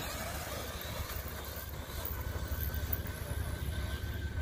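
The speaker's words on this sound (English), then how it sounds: "try to drag race my vintage Tamiya Manta Ray against his Traxxas Maxx" A vintage Tamiya Manta Ray and a Traxxas Maxx RC car drag racing, a continuous whirring motor drone with a rough buzzing texture, fairly close and steady throughout, no speech.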